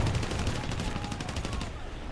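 Rapid automatic cannon fire from a Yak-9 fighter in a flight combat video game, a dense continuous rattling burst over engine drone, loud and steady for nearly two seconds before cutting off.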